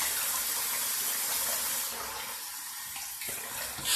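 A tap runs steadily while someone washes their face before a wet shave, a continuous rushing hiss of water that stays fairly loud throughout and eases slightly toward the end, with no talking.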